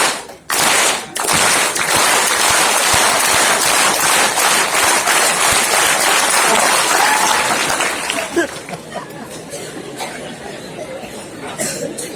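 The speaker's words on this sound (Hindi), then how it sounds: "एक बार हमारे साथ मिल करके ताली बजाइए।" A large student audience at an official event breaks into loud, continuous clapping for about eight seconds, then the applause thins and fades into scattered claps, murmurs and light chatter.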